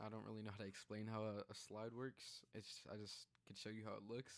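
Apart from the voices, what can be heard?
No distinct noise like a dog, phone or traffic.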